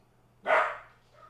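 A dog gives a single short bark at moderate distance in a quiet room, with a faint low hum underneath.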